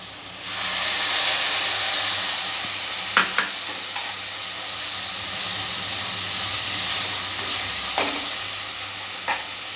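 A dry spice mixture hits cooked tomatoes in a pan for matar ghugni and sizzles with a steady, loud hiss, broken by a few sharp spoon taps against the pan.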